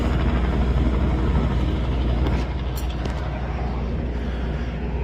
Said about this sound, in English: Oh, there goes the helicopter. It's taking off.